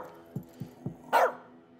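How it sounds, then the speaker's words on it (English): Dog named Tux in As Dusk Falls, giving three short low woofs in quick succession and then one louder, sharper bark, with no one talking. "You, keep that dog quiet."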